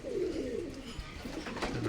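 Pigeons coo softly and close by, a low rolling burr repeating over a couple of seconds against a faint background hum.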